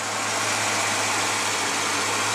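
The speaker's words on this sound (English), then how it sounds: "Hear the engine go down." A steady car engine idles with a broad, even hum and hiss throughout, its idle dropping as a hose is crimped off, with no voices.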